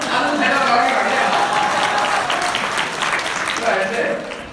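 Audience at a lecture hall event clapping, a sustained burst of applause that swells and then fades, with voices mixed in.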